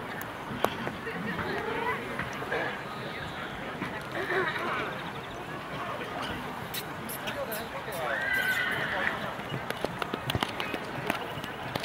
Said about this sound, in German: Duke Ellington, dieses Fohlen in Londonderry